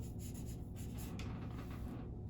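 Pen or pencil scratching steadily on paper while a fraction is written out by hand, a continuous close rubbing scrawl with no voices.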